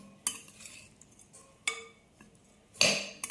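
A spoon clinks against a dish while stirring sabudana khichdi cooked in a microwave: three bright, separate metallic knocks, the last the loudest, with quiet pauses between and no talking.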